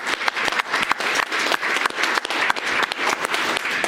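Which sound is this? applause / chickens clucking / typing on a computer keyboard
applause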